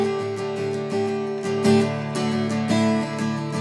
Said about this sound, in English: I'm going to throw a 16th note strumming pattern underneath it